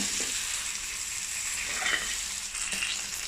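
Tomatoes fry in a pan with a steady, close hiss, cooking down for a spicy prawn idiyappam biryani, with faint soft scrapes as the pieces are turned.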